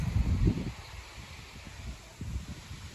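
Low rumbling wind buffets the microphone in gusts outdoors in a hillside dahlia garden, strongest at the start and again near the end, with a faint rustle underneath.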